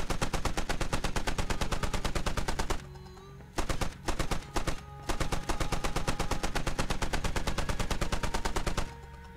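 A mounted Browning heavy machine gun in the shooter game Squad hammers out long, rapid bursts, broken by a pause with a few short stutters before sustained fire resumes, loud and close.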